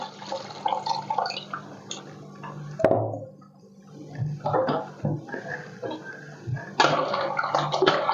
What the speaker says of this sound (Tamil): புளி கரைச்ச தண்ணியை இதில் ஊற்றிக்கிறோம்